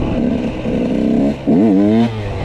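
A motorbike ridden downhill during wheelie practice, its engine droning close by, then a sharp rev that rises and falls before settling back to a steady note.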